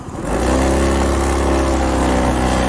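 A Honda Forza 350 scooter engine idles with a steady, buzzing shudder, its low rattling vibration holding constant and loud after it catches.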